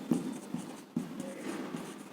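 Chalk or marker writing on a classroom board during a physics lesson, a series of close, scratchy strokes with short taps and pauses, heard alone without talk.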